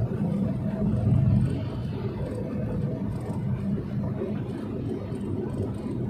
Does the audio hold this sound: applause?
no